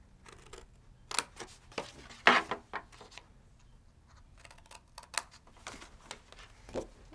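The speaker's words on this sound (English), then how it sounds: "Now I'm going to cut this little box off of here." Scissors snip through paper card, cutting a small box section free from a greeting card; a series of quiet, crisp irregular cuts and rustles, close up with no talking.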